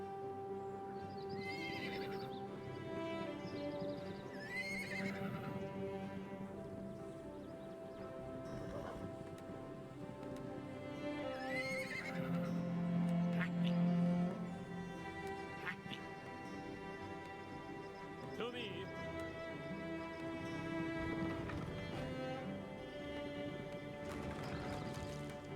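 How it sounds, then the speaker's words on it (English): Horses neigh repeatedly and hooves clip-clop in the Destroy All Humans! video game, several whinnies spread over a steady game soundscape with music, alongside quacking ducks. "Scott, you look pretty quick actually because you're on a horse."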